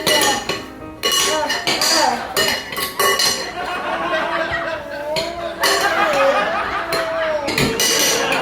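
A spoon clinks and scrapes against a bowl while cauliflower bite ingredients are mixed, with quick repeated knocks and rattles under an adult and someone talking close by.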